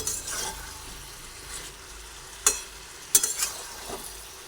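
An eggplant, potato and capsicum curry is stirred in a pan over a quiet background sizzle, with a few distinct scraping clicks of the spatula, close but fairly soft.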